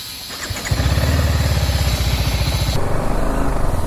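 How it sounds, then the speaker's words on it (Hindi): A BMW G 310 RR motorcycle with an engine malfunction fault starts up with a short crank, then catches into a loud, close, steady idle with a rapid even pulse. "ये देखो अभी बाइक स्टार्ट"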